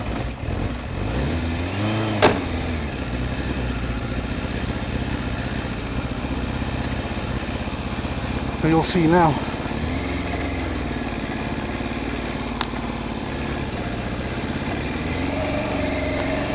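A cold motorcycle engine idles with a steady, even drone. There are a few brief louder blips, and someone says a few words at the start.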